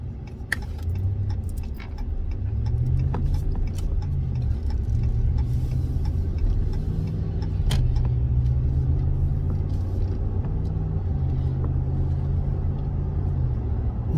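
Cars idle and creep along in a traffic jam on a country road, a steady low engine rumble heard from inside a vehicle with light rattles and no talking.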